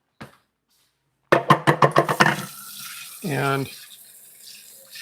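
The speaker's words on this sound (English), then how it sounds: "and I'm going to rinse this off." A dish rinsed under a running kitchen tap, a short burst of splashing water after a quick series of knocks, close and moderately loud, with a single spoken word at the start.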